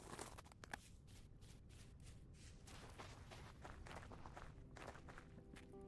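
Footsteps crunch on ice in the video game Vintage Story, a quiet, steady run of soft crackly steps in game sound.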